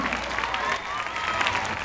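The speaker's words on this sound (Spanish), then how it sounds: "Fuerte aplauso para ellos." Loud, dense applause rings out for a performing group at a cosplay show, steady and continuous throughout, with a voice faintly audible beneath the clapping.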